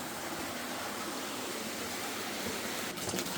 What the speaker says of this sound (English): Pretty sure there's a waterfall right there.